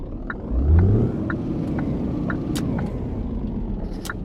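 Road traffic passing in a trucking game with a Scania R Series truck, a low rumble swelling briefly near the start and then settling into a steady drone, with faint clicks over it and no talk.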